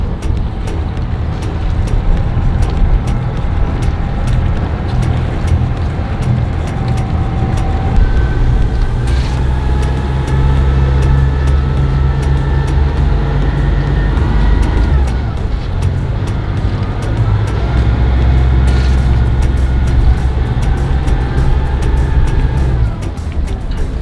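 A boat engine runs in reverse at 2000 RPM while the anchor is set against current and wind, a steady low drone throughout with a tonal whine above, alongside wind and water noise.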